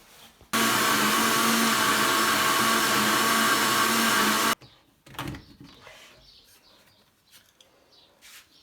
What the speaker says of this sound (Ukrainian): Все, і збиваємо.